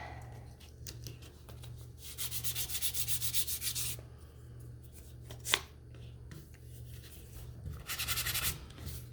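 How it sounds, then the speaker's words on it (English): Sandpaper rubbed over blue paint on a wooden Christmas tree sign in steady back-and-forth bursts, close and fairly quiet, with short pauses and a light tap between strokes. "I'm just going to come in here and sand that one"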